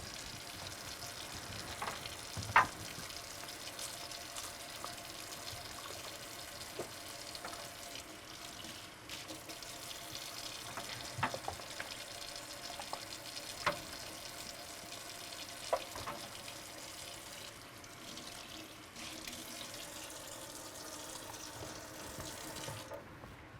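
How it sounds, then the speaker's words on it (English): Dental instruments are rinsed under a running tap in a sink, a steady close wash of water with a few sharp clinks of metal against the basin. "You're going to rinse them off in sink number 2"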